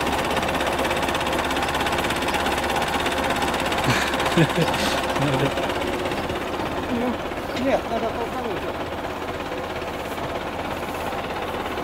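A tractor engine runs with a steady, droning mechanical rumble throughout, while people talk close by over the noise.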